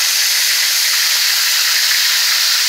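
Mountain oysters (hog fries) sizzling in a cast iron pan, a loud, steady, close hiss of frying with no pauses.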